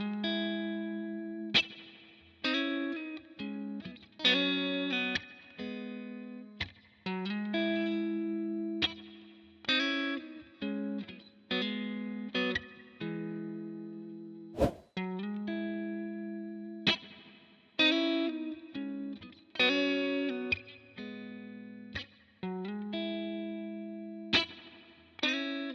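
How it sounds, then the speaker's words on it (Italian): A PRS SE Custom 24 electric guitar with its pickup split to single coil rings out chords and single notes through an effects chain. Each strum rings and then decays in a steady rhythm, with no voices. "splittare questo pickup e sentire come suona da single coil"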